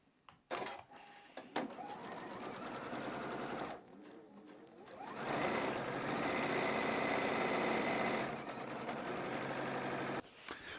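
A sewing machine stitching seams on a quilt block, whirring in short bursts at first, then running continuously for several seconds before stopping, near and fairly quiet.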